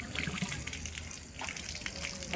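Water gushes and splashes from a newly installed 1 HP borewell submersible pump inside a house, a steady close rushing flow with faint background noise.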